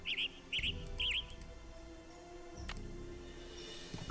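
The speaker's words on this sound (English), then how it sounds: "I don't need to hear every bird." Birds chirp in the Nancy Drew game Ghost Dogs of Moon Lake, three quick bright tweets close together at the start, then quieter outdoor ambience with faint low rumbling and no talk.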